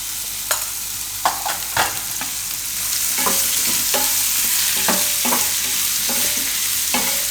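Pointed gourd (parval) fries with salt and coriander-cumin powder in a pan under a constant hiss, while a spoon knocks and scrapes repeatedly in an uneven stirring rhythm, close and fairly loud.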